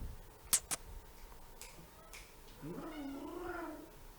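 A pet cat at a podcast recording gives a drawn-out, wavering meow near the end, following two sharp clicks, with a quiet room behind and no one talking.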